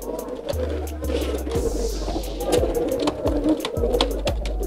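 Merpati Mas Rudien pigeons at a bird seller's kiosk in Krasak village, Brebes, give repeated low, throbbing coos in a steady rhythm, close by, while people talk over them.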